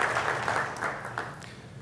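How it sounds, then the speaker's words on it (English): Applause from a conference audience at DevOpsDays Cairo 2018 fades out, scattered claps thinning from a moderate patter to a few separate hand claps. "I believe they deserve a first big round of applause in the morning"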